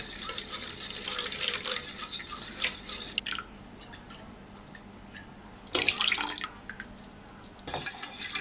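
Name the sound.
pouring milk into eggs for caramel pudding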